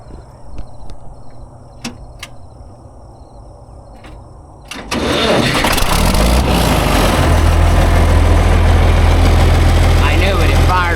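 An engine on a water wagon cranks at half throttle, with scattered clanks and ticks before it fires and catches into a loud, steady, close idle with a low drone.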